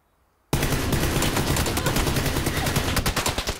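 Video game gunfire opens abruptly after a half-second of silence, a dense rapid burst of shots like an automatic weapon, loud and close, tapering into separate cracks at the end, with no voices.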